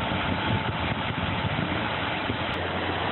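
A tractor raking sand on a Fort Lauderdale sea turtle nesting beach idles with a steady, mid-level mechanical drone, continuous and fairly close, with no talking and no change in pace.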